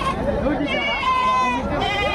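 Male goats bleat at a crowded Gudur livestock market, their wavering calls rising over steady background chatter and someone talking nearby throughout.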